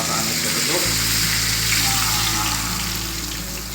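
KFC-style fried chicken pieces sizzle in hot oil, a close, dense and continuous frying hiss that lasts throughout.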